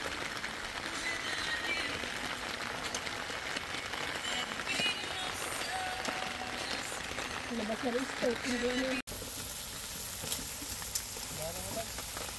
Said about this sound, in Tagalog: Inabot po talaga ng ulan ng camping.